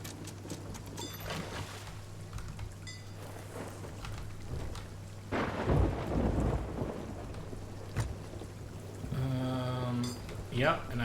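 Thunderstorm in the Sea of Thieves pirate sailing game: steady heavy rain with rolling thunder cracks that swell loud midway, plus creaking ship tones near the end.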